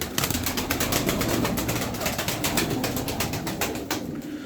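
Pigeons flutter and shuffle close by, with rapid wing flaps and soft rustling that continue throughout.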